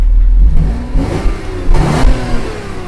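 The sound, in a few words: car engine revving through exhaust tailpipe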